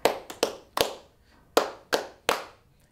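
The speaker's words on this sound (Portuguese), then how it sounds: "A gente vai fazer 3 palmas." Sharp, close hand claps in a rhythmic capoeira-style pattern, the kind used to keep time with a berimbau in a school physical education class; about seven crisp claps in small groups, alone with no talking.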